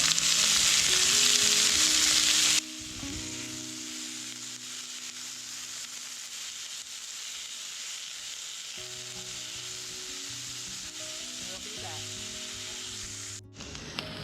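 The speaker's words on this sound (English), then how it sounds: "I'm going to put in a cup of onion and a cup of peppers. And you need to saute them so they're translucent." Chopped onion and peppers sauté in a pan for a spaghetti sauce, giving a steady close sizzle and frying hiss that runs throughout, louder and brighter for the first couple of seconds, with faint stirring scrapes.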